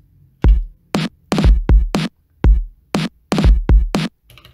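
Elektron Digitakt drum loop with a retrigger making hits play twice: punchy kick and snare-like strikes in a tight repeating pattern with doubled hits, close and dry, no voices.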